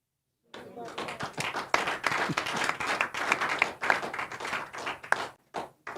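An audience clapping during a live broadcast program: irregular bursts of hand claps starting abruptly after a short silence, mixed with voices talking throughout, fairly close and uneven in rhythm before trailing off.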